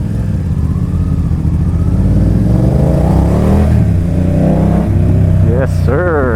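A BMW F900R motorcycle engine braking, a loud close engine drone whose pitch sweeps down and up as the bike slows, overlapped by a rider talking.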